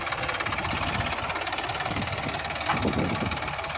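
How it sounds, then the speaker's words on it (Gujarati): A Massey Ferguson 241 regular 42 hp tractor engine runs steadily nearby with a rapid, rough knocking throb, loud and continuous throughout, with a plough. "241 રેગ્યુલર 42 એચપીનું ટ્રેક્ટર છે"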